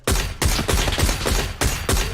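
Rapid bursts of SLR rifle hip fire in the shooter game PUBG, six sharp loud volleys of shots in quick succession, close and dry with no talking.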